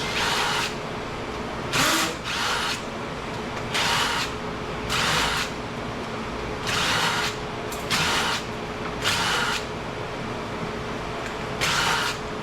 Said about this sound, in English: I'm actually pulling the drill, like I'm keeping it straight up and down